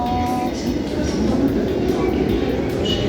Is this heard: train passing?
yes